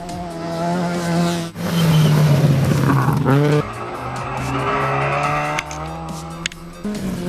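Regional rally cars such as Subaru Imprezas and Toyota Tazas race past, engines revving loudly with tires squealing and skidding, then the engine note fades into the distance.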